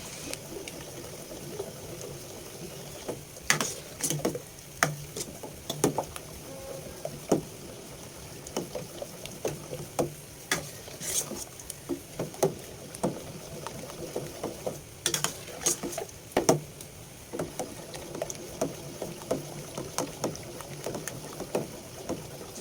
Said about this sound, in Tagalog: Haluin lang po ng maigi. Huwag po nating titigilan para hindi siya magbuo-buo.